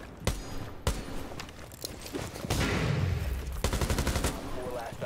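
Rapid bursts of video game gunfire from a rifle fitted with a red dot sight, several sharp volleys with brief gaps and a denser stretch midway, loud and close over a steady background rumble.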